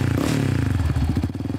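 A small ATV engine idles and revs close by, with a rough putter that quickens into rapid pulsing near the end.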